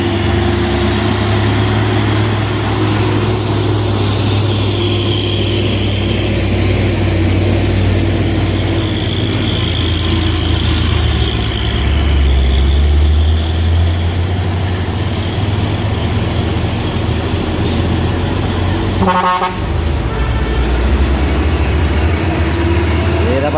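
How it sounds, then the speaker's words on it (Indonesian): Hino trucks labour up the steep Bukit Kodok climb, a steady loud diesel drone with deep low rumble throughout and a brief sharper burst near the end, close by. "Terus mulai naik ramai nih truk Hino."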